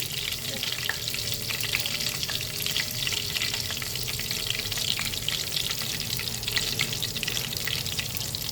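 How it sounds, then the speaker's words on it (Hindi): Ghee frying in a pan for a dhaba-style dal tadka, a loud, dense, continuous sizzle heard up close with no talking. "अब इसमें घी डाल रही हूँ"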